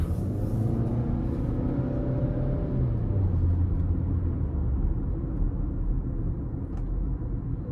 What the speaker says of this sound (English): We'll give it a bit of throttle here.